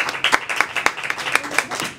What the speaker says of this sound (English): everybody here another round of applause